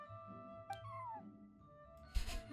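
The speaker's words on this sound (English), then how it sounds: "A soft, white, fluffy little kitty." A small white fluffy kitty in Genshin Impact gives a soft, short meow over quiet game music, followed by a brief rustling burst near the end.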